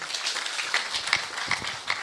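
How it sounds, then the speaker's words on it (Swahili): A small crowd claps for a scientist at a county best-practice award forum in Taita Taveta, Kenya: steady, fairly soft applause heard from a distance, with a few louder claps standing out. "tumpigie makofi mengine kidogo"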